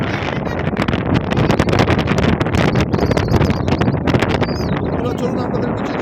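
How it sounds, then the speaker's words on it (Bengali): Strong stormy wind at Mandermoni sea beach, loud blustery gusts battering the microphone in continuous roaring buffets with a faint voice underneath. "প্রচণ্ড হাওয়া"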